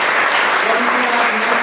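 A crowd at an all-candidates forum on arts and culture in Burlington claps steadily, a full, even wash of applause from a packed room, with a little cheering mixed in.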